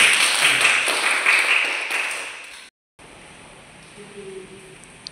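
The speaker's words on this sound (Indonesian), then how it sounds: "Tepuk tangan kalian semua." Students clap together at the close of a university lecture on Islamic education management. The clapping is steady and fairly close for about two and a half seconds, then stops abruptly. Faint room noise and a few light taps follow.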